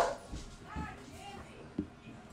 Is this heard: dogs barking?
yes